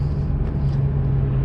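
A Honda Civic with a stage 1 install pulls in second gear, a steady low engine hum and rumble heard from inside the car for a brief moment, with no talking.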